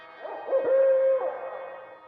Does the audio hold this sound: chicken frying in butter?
no